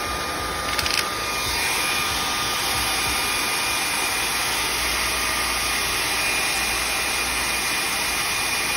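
A hair dryer drying paint on paper for a handmade fan, a steady, continuous blowing roar with a high whine running unbroken throughout, close and even in loudness.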